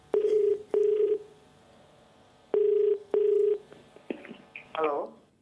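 Touch-tone telephone dialing on a quiz show: four clear, evenly spaced beeps in two pairs, followed by short ringing and connection tones, fairly quiet with no talk.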